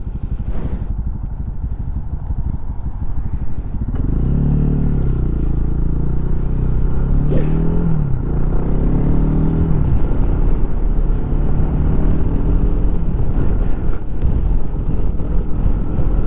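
Lifan KPX 250 motorcycle engine out on a ride, starting as wind rush, then a close steady engine drone that rises and falls in pitch through gear changes, with wind buffeting the microphone.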